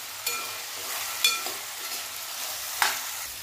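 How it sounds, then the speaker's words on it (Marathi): Pea pods, chopped tomato and peanuts roast in a pan over medium-low heat, giving a soft steady sizzle with a few scraping stir clicks, quiet and close with no talking. "आता हे परत छान भाजून घेऊया। मीडियम टू लो गॅसवर हे भाजून घ्यायचं आहे।"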